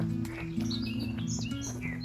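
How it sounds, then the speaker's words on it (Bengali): Birds chirp and tweet in short bright calls along a hillside path on the Sirmione peninsula at Lake Garda, Italy, heard at moderate distance over a steady low hum with no talking. "পাখির ডাকতে শোন।"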